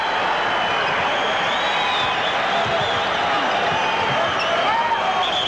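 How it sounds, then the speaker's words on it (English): Steady rumbling roar of a Hartford arena crowd at a mid-1980s Celtics–Pacers NBA game, a dense continuous murmur that swells slightly near the end, with no single voice standing out. "That's the rumble you hear in the Hartford crowd"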